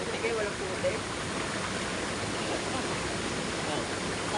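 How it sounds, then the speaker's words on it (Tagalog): Small sea waves wash in as a steady broadband rush with no distinct breaks, loud and continuous throughout. "May alon din daw naman. May waves, oh. Kahit maliit."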